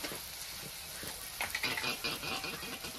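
Peas, tomato and spices frying in a pan while being stirred, a quiet steady sizzle with light scraping strokes that grow a little busier toward the end.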